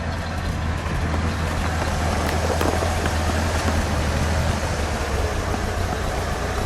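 A 1980 Cadillac Eldorado's engine idles steadily and quietly, a low continuous rumble with an even broadband wash over it and no revving.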